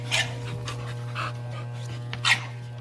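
A dog pants in quick bursts during a breeding session, close by, over a steady low electrical hum with a few short breathy gaps.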